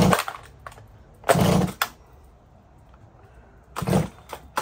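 A rebuilt Stihl MS 180 chainsaw that will not idle, its engine roaring in three loud, close bursts of revving separated by quieter gaps where it nearly dies.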